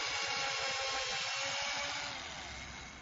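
A power drill whirs steadily into a wooden board, a continuous high whine with a rough low chatter underneath that eases slightly toward the end.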